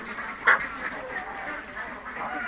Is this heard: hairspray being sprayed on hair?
no